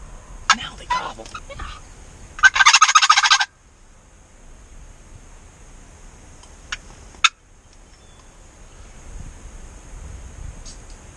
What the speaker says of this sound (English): Now they gobble.